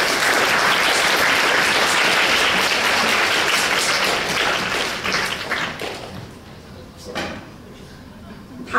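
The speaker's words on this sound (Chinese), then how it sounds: "我们请大家用热烈的掌声来欢迎这个谐星出身的乌克兰总统" An audience applauds warmly for a newly elected Ukrainian president who was formerly a comedian, taking the stage at a university lecture hall. The dense clapping is sustained at first, then thins and fades near the end.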